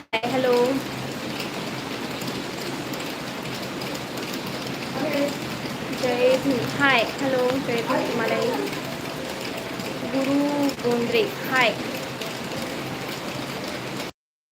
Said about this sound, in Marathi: पाऊस आहे होय